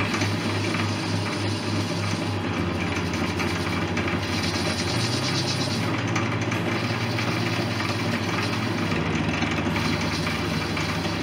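A metric metal lathe cuts a 1.6 mm inset step during an airborne lifeboat restoration, giving a steady mechanical drone with low motor hum and gear whine that holds throughout, pitch shifting slightly partway, with no talking.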